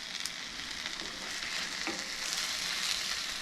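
A steady sizzle of squash and egg scramble frying in a hot pan, continuous and moderately loud, with faint stirring ticks over the crackle.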